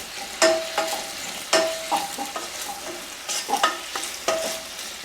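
Capers tipped into a pan of sizzling garlic and chicken for a chicken pasta salad: a soft frying hiss broken by sharp clinks and scrapes of stirring, a handful of louder clatters, no talk.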